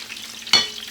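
Shrimp tempura prawns dropped into hot frying oil give one sudden, close sizzle that fades over the rest of the second.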